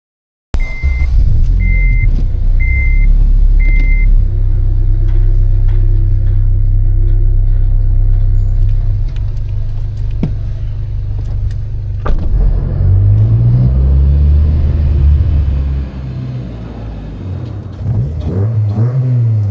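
Honda Civic Si with a swapped K24 engine idling with a deep, steady rumble close by, a few short chirping beeps early on, then light revs toward the end.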